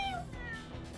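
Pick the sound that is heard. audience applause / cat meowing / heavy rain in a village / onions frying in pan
cat meowing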